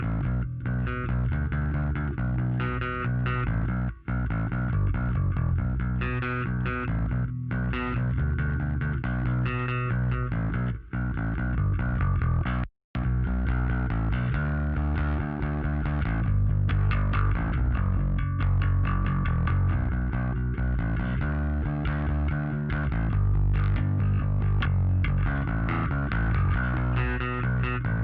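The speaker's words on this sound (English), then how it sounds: "These two help the bass to cut through better and also give that grit and aggressiveness to the bass" A bass guitar line is played through EQ boosts around 1 kHz and 1.5 kHz, giving a gritty, distorted, aggressive tone that cuts through, heard as continuous busy notes with a couple of brief dropouts and no talking.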